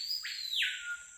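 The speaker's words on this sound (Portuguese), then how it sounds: "Ouvindo esses pássaros maravilhosos" A single bird calls once in the forest, a short bright whistled note that rises and then drops, faint and clear against quiet background air.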